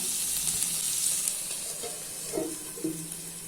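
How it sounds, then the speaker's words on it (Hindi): Chopped tomatoes sizzle and fry in a pan over a medium flame for a soyabean kofta curry, a steady close crackle with a couple of soft stirring clicks near the end. "अभी इसको मीडियम फ्लेम पे टमाटो सॉफ्ट होने तक कुक कर लेना है।"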